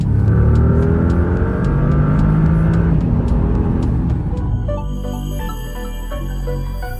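A powerful 2025 Bentley GT engine revs loudly and steadily, its pitch climbing then easing off, with a faint musical tone emerging near the end.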